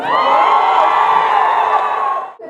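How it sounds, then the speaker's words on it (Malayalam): A crowd of fans cheers, whoops and applauds for actor Dileep at a fan event, a dense, loud roar of voices and clapping that holds steady before cutting off sharply near the end. "ഇത്രയും കയ്യടി പോരാ ഞാൻ പ്രതീക്ഷിച്ചത് ഇത് കൂടുതലാണ്"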